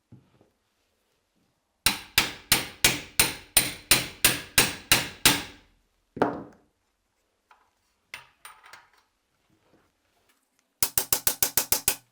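Hammering a kit part onto a modded AK-12 rifle with a folded stock: a quick run of about ten sharp metallic blows, a pause with a few small knocks, then another fast burst of strikes.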